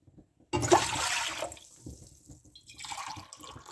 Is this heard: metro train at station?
no